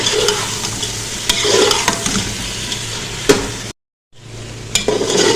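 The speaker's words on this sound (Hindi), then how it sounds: "और अब हम इसको अच्छे से भून लेंगे।" Grated bottle gourd with coriander and cumin powder being roasted in oil in a pan, a steady sizzle with scraping stirs from a spoon throughout, close and loud, briefly cutting out near the end.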